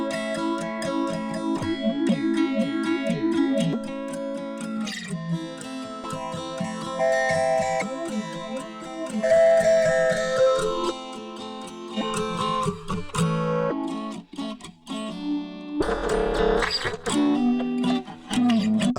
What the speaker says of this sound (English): that phaser is super impressive